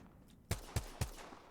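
Three sharp gunshots from the Apex Legends video game crack out in an evenly spaced sequence, loud and punchy over a quiet background.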